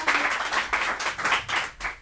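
Audience clapping at an Upheros Massiac event, a short burst of applause swelling and dipping in several waves over two seconds, fairly close and without talk.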